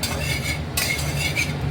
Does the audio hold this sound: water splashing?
no